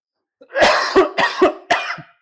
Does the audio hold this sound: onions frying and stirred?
no